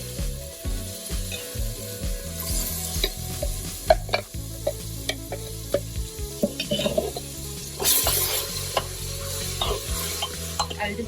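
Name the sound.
tomato puree frying and stirred with browned onions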